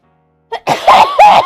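Someone sneezes in a short burst with a sharp intake and two forceful expulsions, loud and close, with no other sound around it.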